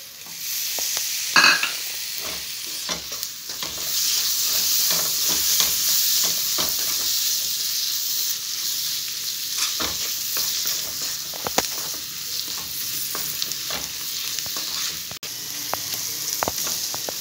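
Tomato is stirred into a sizzling curry masala for Kerala chicken curry. A bright, continuous sizzle runs throughout, with scattered utensil scrapes and taps close by and no voices.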